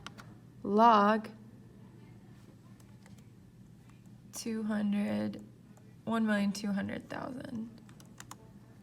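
Short bursts of key presses on a scientific calculator, faint and close, separated by pauses, with a voice speaking alongside.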